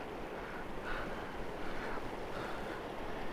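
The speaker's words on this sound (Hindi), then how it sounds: "कलकल बहता हुआ यहाँ झरना," A mountain waterfall flows among rocks on a Himalayan trek, a steady, dense rushing wash mixed with wind noise, with no talk.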